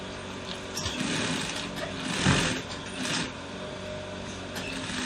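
A sewing machine stitches a trouser pocket bag with a steady, close mechanical whirring and ratcheting that swells briefly in the middle, with no talking.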